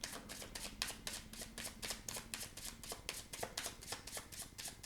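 Tarot cards are shuffled close up in a quick, steady rhythm, with repeated riffling flutters and soft taps on the table and no talking.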